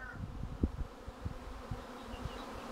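A swarm of honeybees at a village hive in Kabayel, Tunceli, buzzing faintly and steadily, with scattered low thumps and handling knocks nearby.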